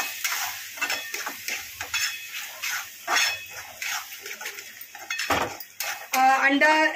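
A spoon stirs and mixes green-chilli egg bhurji in a pan, giving a run of close, irregular scraping and clinking strokes against the metal with a faint sizzle underneath and no speech.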